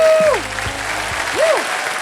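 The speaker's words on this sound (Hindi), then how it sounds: "जोरदार तालियां मेरे लिए।" Studio audience applause on the Hindi Wheel of Fortune set, a steady wash of many hands clapping that runs the full length, with gliding musical sound effects sweeping over it.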